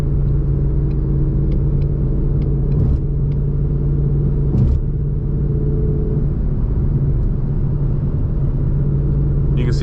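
A 2020 Mustang GT with a Borla exhaust and 3.55 gears cruises at night just over 2,000 RPM around 75, giving a steady, loud, low droning rumble with faint bumps and ticks.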